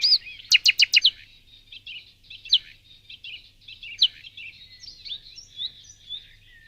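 Nightingale singing in the open: a rapid burst of sharp, repeated chirps, then scattered high trills and whistled phrases, clear and moderately close against a quiet low hum.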